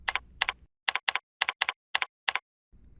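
A portfolio name typed on a computer keyboard, eight crisp close keystrokes in an uneven rhythm that fall into near silence before a faint room noise returns.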